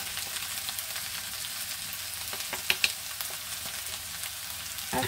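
Pieces of rabbit browning in a pan, giving a steady, close frying sizzle with a few sharp clicks and light scrapes from turning the meat, and no speech.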